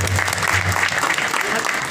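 Steady audience applause fills a live devotional singing program with harmonium, a dense, continuous patter of many hands clapping at close range over a low electrical hum, with no break across the short stretch.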